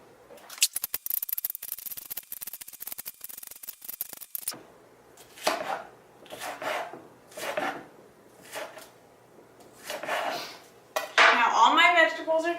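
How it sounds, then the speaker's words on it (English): A knife chopping vegetables on a board: a rapid flurry of dense cuts for several seconds, then slower separated strokes about once a second, ending with a brief clattering scrape, all close. "I just keep chopping each half so that it looks like this"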